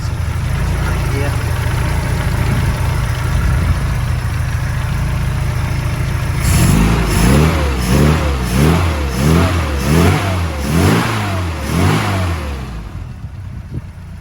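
A supercharged Mini 1275 engine, built from an MG Metro unit with a decompression plate lowering compression, starts up partway through and revs repeatedly in a steady rising-and-falling rhythm on a rolling road, loud and close after a stretch of background noise.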